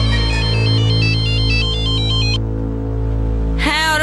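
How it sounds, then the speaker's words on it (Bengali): A mobile phone plays a melodic ringtone as a call goes through, loud and close, then cuts off briefly before a rising tone resumes over a steady low hum. "তোর মোনা ডার্লিংকে ফোন কর"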